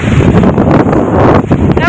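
A sudden strong windstorm strong enough to topple trees blasts the microphone with heavy low rumbling gusts, loud and close, nearly continuous for the whole moment.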